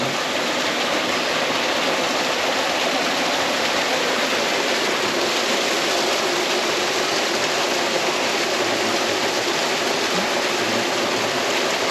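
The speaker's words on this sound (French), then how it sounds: "C'est le bleu de la cascade." A waterfall in the Masoala forest gives a steady, full roar of rushing, splashing water that runs unbroken and even throughout, with no voices over it.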